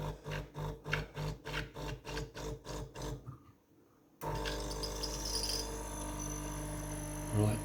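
A DeLonghi La Specialista espresso machine runs its pre-wet stage on very finely ground coffee. The pump throbs in about a dozen evenly spaced pulses, goes briefly quiet, then settles into a loud, continuous hum.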